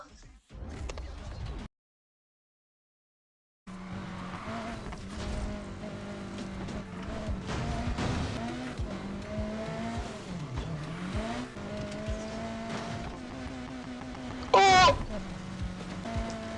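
A car drifts in a racing video game, its engine droning steadily with shifting pitch and a sharp tire squeal rising near the end. A short silent gap comes early.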